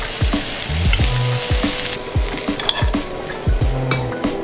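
Rainbow trout almondine fries in butter with thyme in a pan over a camp cooking setup, a close, loud sizzle broken by repeated scraping and tapping of a utensil.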